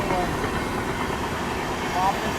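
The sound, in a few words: Prayagraj Express train overtaking Prayagraj Humsafar Express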